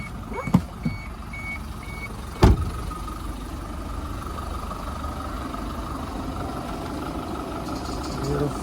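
The engine of a 2021 LDV T60 Pro ute idles in a steady low rumble under an open bonnet, while a reversing beeper sounds in the background and a couple of sharp knocks occur early on.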